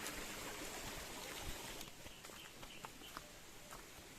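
Water of a small stream babbles continuously at low level, with faint outdoor background sounds and occasional soft clicks.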